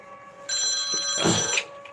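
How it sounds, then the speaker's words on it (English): A telephone rings in the anime Lycoris Recoil, a bright electronic trilling tone sustained for over a second with a soft thud midway, fairly clear against a quiet background. "But Chisato also gets a call on her personal phone"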